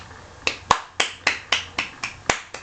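A single person claps their hands about nine times in a steady, slightly uneven rhythm. The claps are close, sharp and dry, with no other sound around them.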